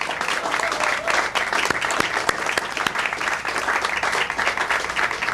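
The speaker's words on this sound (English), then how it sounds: "So please, a round of applause for our military families." A crowd at a Fourth of July patriotic program in Hamilton, Ohio applauds military families, a steady, dense wash of clapping with a few sharper individual claps standing out and no one talking.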